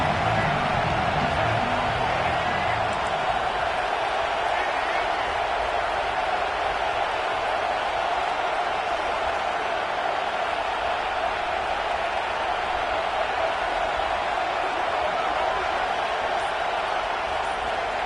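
A large stadium crowd roars steadily behind the defense on a big third down at a football game, a dense, loud wall of cheering and babble that holds unbroken throughout.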